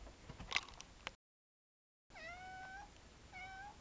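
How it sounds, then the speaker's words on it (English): Pet cats meowing indoors: a burst of clattering noise, a short break, then a string of clear, drawn-out meows at close range, followed by a couple more. "this is where I keep all of my whores. And by all of my whores, I mean all of my cats."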